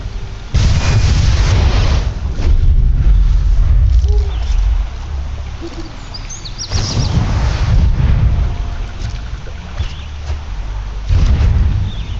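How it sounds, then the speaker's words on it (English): A thunder magic spell effect in the MTG Arena card game sounds as a pair of loud, booming rumbles with sharp cracks, each swelling and fading under a dense low roar. "Thunder magic"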